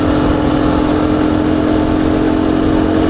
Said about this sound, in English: Some people want to get more sound of the motorcycle when they do moto vlogs.